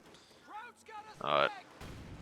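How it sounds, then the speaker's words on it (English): Explosions in the World War II strategy game Company of Heroes 2, a brief loud burst of blasts and gunfire following a voice commenting over the game. "Quite a lot of nice, pretty explosions right there."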